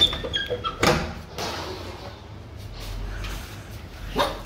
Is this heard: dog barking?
yes